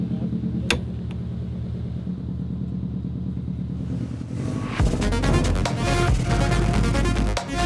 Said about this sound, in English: I'm racing a 2021 Subaru WRX STI here at the 100 Acre Wood Rally